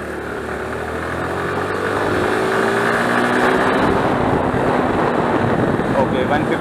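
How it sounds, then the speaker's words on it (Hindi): A Suzuki Gixxer 155cc motorcycle engine rises in pitch as it accelerates on the road, a steady droning exhaust note growing louder with wind buffeting the microphone. "अब मैं एक्सेलरेट करने वाला हूँ।"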